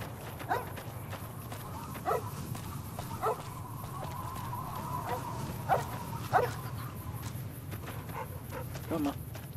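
A dog in the Fallout New Vegas video game barks several times at spaced intervals over a steady low hum of game ambience.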